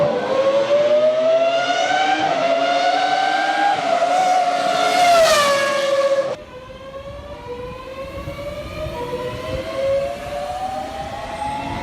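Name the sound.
video game electric train accelerating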